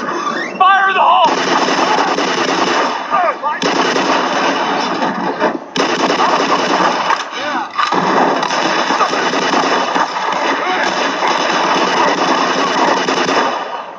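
A thrown grenade in Black Mesa explodes amid sustained loud, dense gunfire and combat noise, with voices shouting over the din.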